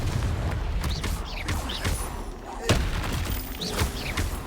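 Spell-casting effects in the video game Hogwarts Legacy, a dense run of whooshing bursts, crackling blasts and booms one after another, loud and busy throughout.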